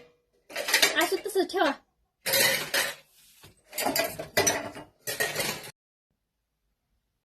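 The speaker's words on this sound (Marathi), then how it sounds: "आई भांडी वाजवू नका" Steel utensils, pots and dishes clattering in bursts of loud metallic clinks and bangs, close by, separated by short pauses, with a brief spoken remark mixed in.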